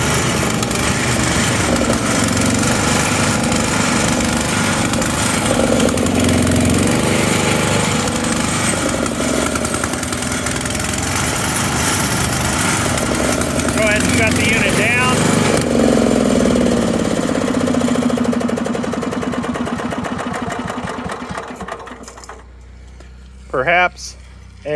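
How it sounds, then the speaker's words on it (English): A Swanson plot thresher motor in rough condition, running loud and continuously with an uneven engine drone before cutting out near the end. "we do have the unit running, but the motor is in rough condition. It does start and run"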